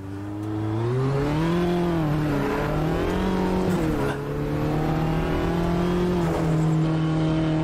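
A Mini race car engine in the racing game Automobilista 2 drones loud and close, its pitch rising and falling as it revs through corners, with a brief dip midway before pulling strongly again.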